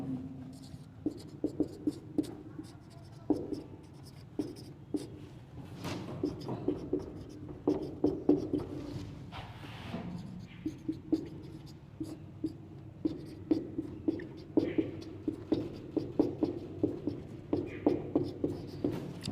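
Hand-writing a matrix maths question, pen or chalk strokes tapping and scratching in quick irregular bursts, close, with occasional low voice in the background.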